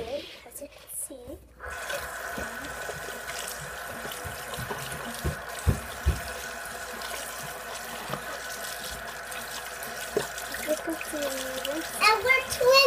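Tap water runs steadily into a sink while a doll's hair is rinsed, a constant faint splashing rush after a brief quiet start, with occasional louder splashes and someone talking over it.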